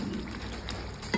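Chicken pieces frying in a pan, a steady close sizzle with a brief louder crackle at the end.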